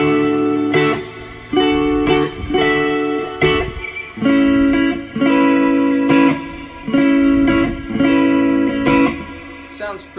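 Suspended F-shape chords are strummed on a Squier guitar in a steady rhythm of about a dozen loud, close chord hits with brief gaps between them, and no voices.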